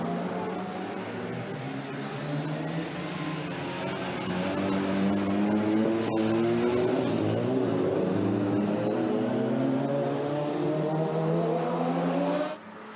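Autobianchi racing cars lap the Circuit des Remparts street course, a loud continuous engine drone rising in pitch as cars accelerate past close by, cutting off abruptly near the end.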